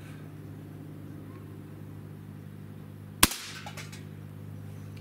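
A Benjamin EB22 short-barrel air rifle fires one sharp, loud shot against a steady low hum, with a brief rattle trailing off after it.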